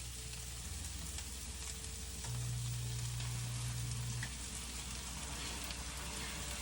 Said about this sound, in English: These are going into my cast iron, which I am heating up right now with some olive oil and butter.